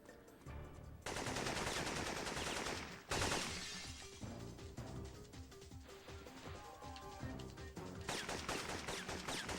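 Rapid M16 automatic fire in the Syphon Filter video game, dense bursts nearly continuous with brief gaps and a louder crash near the middle, close and loud with game music underneath.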